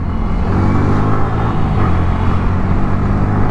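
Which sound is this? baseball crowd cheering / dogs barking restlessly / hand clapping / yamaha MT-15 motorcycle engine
yamaha MT-15 motorcycle engine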